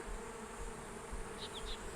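Honey bees around a newly installed nuc hive give off a steady, faint droning buzz with no other sound.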